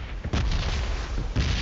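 Explosions in a multiplayer shooter video game, a sustained series of loud booming blasts with heavy low rumble, a sharp new burst near the end.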